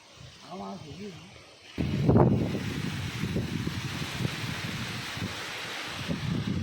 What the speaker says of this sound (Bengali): প্রচণ্ড বেগে হাওয়া চলছে।